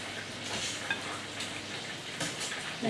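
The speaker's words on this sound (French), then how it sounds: "vous commencez à remuer. Plutôt pas trop à la main, plutôt avec une spatule" A spatula stirs a thick, sticky crepe-like batter, giving soft scraping and sloshing sounds with a few light clinks against the bowl. The stirring is continuous and fairly quiet.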